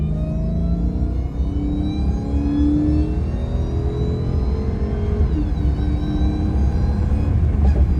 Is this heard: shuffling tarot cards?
no